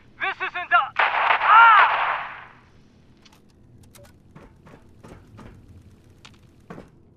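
Gunfire in the video game Fallout 76 starts as a quick burst of shots and is followed by a loud blast. Sparse, faint clicks and pops come after it over a quiet background.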